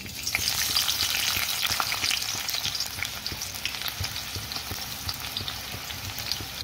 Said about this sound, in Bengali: এবার আমি পেঁয়াজটা একটু একটু করে ভেজে নেব